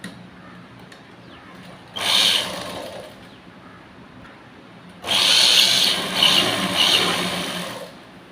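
A sewing machine stitches a princess blouse, a short run of stitching followed by a pause and then a longer, louder burst with slight surges in speed, close up with no talking.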